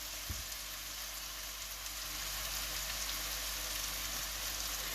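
Four chopped onions fry in a pan for lamb chop curry, giving a steady, close sizzle like light rain that holds without a break, with one brief knock near the start.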